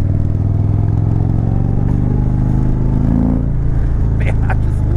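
An Indian Chieftain Dark Horse motorcycle with a Stage-3 116-inch kit pulls hard, its deep engine roar loud and steady throughout, with wind noise and a rider talking over it.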